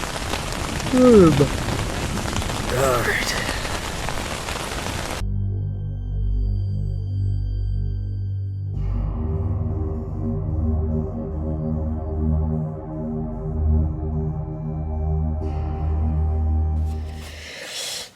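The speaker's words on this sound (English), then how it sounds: "You guys hear that thunder? It's getting pretty close to being on top of us." A thunderstorm with rain at an overnight camp: steady rain patter, then a long, deep rolling rumble of nearby thunder that lasts most of the stretch. Someone speaks briefly at the start.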